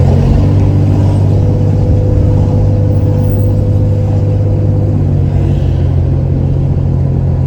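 A 1969 Plymouth Barracuda with a 225 engine holds a loud, steady rev, a sustained droning engine tone at constant pitch that eases slightly near the end.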